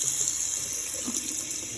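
A Hoover PowerDash carpet cleaner runs with water in its tank, a steady hissing, rushing wash of flowing water and motor noise, close and continuous, with no talking.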